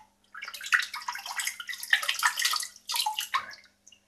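A shaving brush still holding Tabac soap lather is rinsed under running water, with close, splashy bursts of flow that break off briefly in between and stop near the end.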